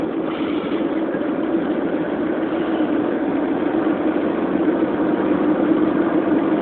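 A vehicle engine pulls under load while accelerating up a hill, giving a steady, continuous close-up drone with a low rumble and no talking.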